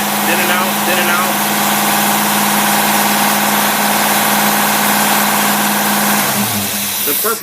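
A V8 fed by two 500 cfm Carter AFB carburetors runs as a steady, loud, close engine drone with a rumbling low end, shifting near the end as the revs change. Someone talks over it.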